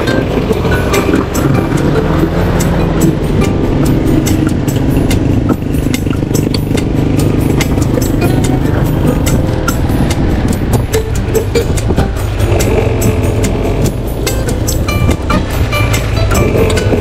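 Several motorcycles ride together on a road, a steady loud engine drone and wind rumble running throughout with no break.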